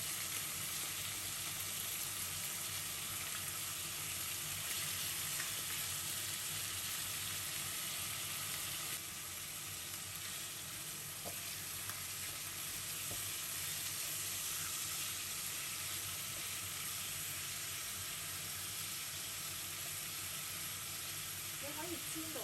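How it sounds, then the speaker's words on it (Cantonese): Thin pork slices sizzle in a pan with leek and kimchi, a steady close frying crackle with occasional stirring clicks, while a person talks over it at times. "係咁意炒下佢"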